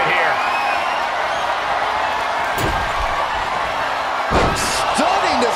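In WWE 2K23, a wrestler is slammed down with sharp impact thuds amid crowd roar and cheering, while a commentator talks throughout.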